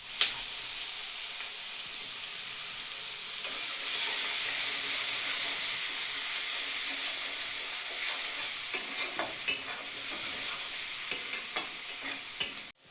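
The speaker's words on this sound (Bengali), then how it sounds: "দারচিনি আর তেজপাতা দিয়ে দিচ্ছি," Cinnamon and bay leaves hit hot oil in a pan while a crab curry is cooked, giving a steady, close sizzle and hiss that builds slightly after a few seconds, with occasional small pops and crackles and no talking.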